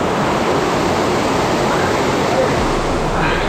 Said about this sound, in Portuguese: Muito legal a cachoeira.